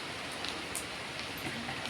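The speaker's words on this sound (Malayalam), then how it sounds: "നല്ല മഴയുണ്ട് കേട്ടോ" Steady heavy rain hisses continuously, a dense wash of drops pattering on surfaces with no voices.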